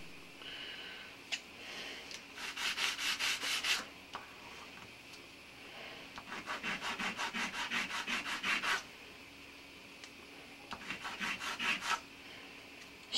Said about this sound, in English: now I can go ahead and sand on that